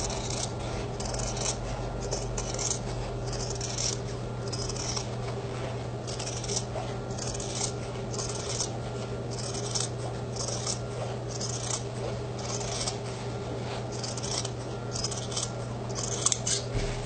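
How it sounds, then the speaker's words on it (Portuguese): Scissors snipping through fabric for a cloth doll's head, with quick, steady, close-up cutting strokes repeating throughout over a low background hum. "Meninas, ó, eu vou cortar aqui a cabeça"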